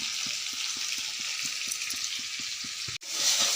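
Spices with garlic paste, turmeric and salt sizzle steadily in a hot pan for a Bengali dried-fish curry with potato and eggplant, a continuous close frying hiss with soft rhythmic scraping taps from stirring and a brief break near the end.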